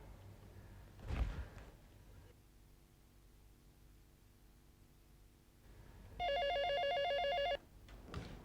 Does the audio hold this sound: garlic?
no